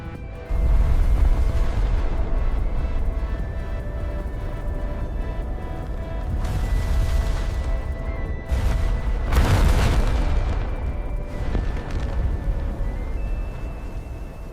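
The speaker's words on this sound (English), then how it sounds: "The blast wave is not wind. It is a wall of compressed atmosphere, moving faster than sound." A simulated nuclear blast wave over Washington, D.C. roars as a loud, sustained rumble with several heavy booming surges that swell and fade, with no voices.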